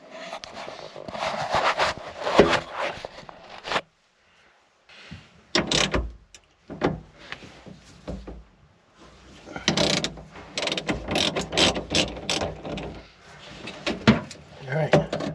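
Ratchet wrench working loose the negative terminal on a car battery of a Camaro SS, a run of quick metallic clicks in bursts, close and fairly loud, broken by a short pause, with someone talking.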